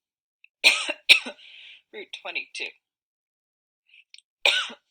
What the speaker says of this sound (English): that's a great cough for a video